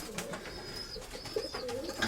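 Soft, low coos from breeding pigeons repeat a few times, fairly close, over a faint steady background.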